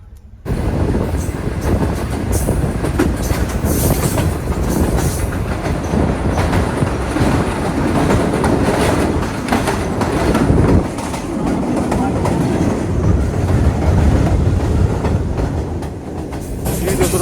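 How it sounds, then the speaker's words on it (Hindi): Green Line Express train travelling between Islamabad and Karachi, heard from inside an AC coach as a loud, steady rumble with clickety-clack of wheels on the rails and occasional squeal, continuous throughout. "5:50 पर ट्रेन हमारी टीना रेलवे स्टेशन को क्रॉस करने के लिए आगे बढ़ रही है।"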